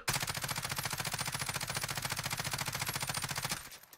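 Rapid, evenly spaced automatic gunfire rattles in a sustained burst during a Warzone recoil test with canted iron sights, loud and close, then cuts off just before the end.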